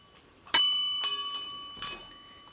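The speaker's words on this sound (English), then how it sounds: "A gold bell." A small gold bell jingles in a few separate shakes, bright and ringing, each strike decaying quickly; close and fairly loud, with no talking.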